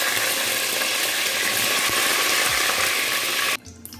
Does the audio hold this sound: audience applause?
no